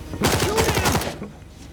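Rapid automatic gunfire in the vampire-hunting video game Dark, a burst of close, loud shots lasting about a second before fading into background game ambience.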